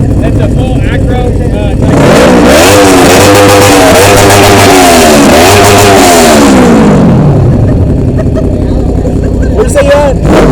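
A BMW S1000RR motorcycle with a full Akrapovic exhaust revs hard at a car meet, loud and close, the engine note climbing and falling through repeated throttle blips before dropping back to idle, with people talking around it.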